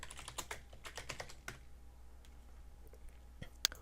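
Light typing on a computer keyboard: a brief run of soft, quick clicks, a short pause, then a few more taps and one sharper click, quiet and close, with nobody speaking.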